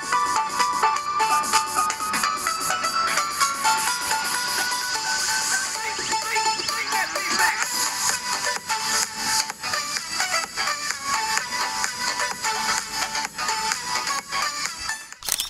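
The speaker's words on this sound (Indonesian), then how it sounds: "kalau untuk speakernya, laptop ini punya dua buah speaker Sonic Master yang menghadap ke alas laptop" Music playing through the downward-facing Sonic Master stereo speakers of an ASUS Vivobook Go 14 E1404FA laptop, with dense, steady, bright content at a constant level for about fifteen seconds and no talking.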